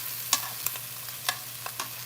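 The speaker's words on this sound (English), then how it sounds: "And my brie and ham and cheese is back in the frying pan." A brie, ham and cheese sandwich fries in a pan: a quiet, steady sizzle over a low hum, broken by a few short crackles and soft clinks spread across the moment.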